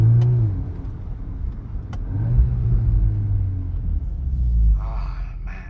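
A 2024 VW Golf 8 R rumbles through a quiet neighborhood, its engine revving up in steady surges and then easing off the throttle, heard close and loud with no talking.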